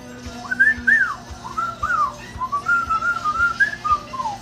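Human whistling a tune, a clear melodic phrase of rising and falling notes, close and fairly loud, over a low background hum with faint regular thumps and no talk.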